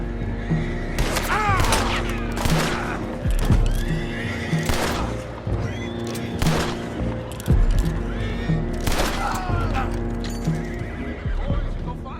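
Horses neigh and whinny repeatedly in Red Dead Redemption 2, with clip-clopping hooves, mechanical clanks and distant gunfire underneath, loud and close over a steady low rumble, with voices now and then.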